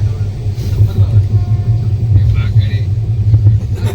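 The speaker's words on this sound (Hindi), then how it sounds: "गाड़ी टनल एंटर कर रही है।" Steady, loud low rumble of the Rajdhani Express as it enters a tunnel, heard from inside an AC 3-tier coach, a continuous drone with voices in the carriage.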